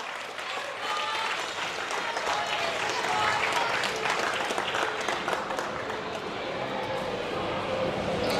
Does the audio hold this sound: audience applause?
yes